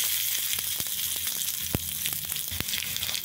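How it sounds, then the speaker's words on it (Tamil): Mustard seeds, cumin and garlic sizzle in hot oil, with a close, continuous hiss broken by sharp, scattered crackles and pops and no talking. "எண்ணெய் சூடாகிடுச்சு, கடுகு போட்டுக்கலாம், சீரகம் சேர்த்துக்கலாம்"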